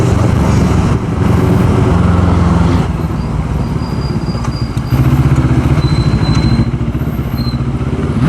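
A CFMoto 400NK motorcycle ridden along a city road, its engine a steady loud drone with road and wind noise and passing traffic throughout.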